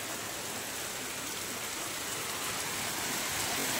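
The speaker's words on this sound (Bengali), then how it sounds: "বৃষ্টিটা জোরে শুরু হয়েছে" Heavy rain falls steadily in a continuous, dense hiss that builds slightly toward the end, with no voices.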